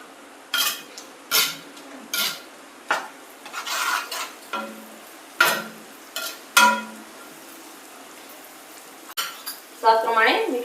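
A spoon scrapes and clatters around a metal pan while masala with garlic chutney and Kashmiri chili is stirred for dal sambar, giving a series of sharp, close strokes and clinks separated by quiet gaps, with a soft sizzle underneath.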